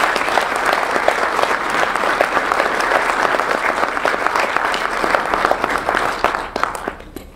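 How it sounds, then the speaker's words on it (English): Audience at an Indian jewelry lecture at the Museum of Fine Arts gives sustained, dense applause, many hands clapping steadily for several seconds before fading out at the end. "will you all give her a round of applause?"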